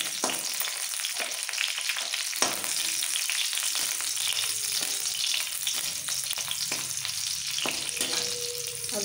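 Green chillies and two bay leaves fry in hot oil in a pan for Bengali khichdi, giving a steady close sizzle with occasional sharp crackles and spatters.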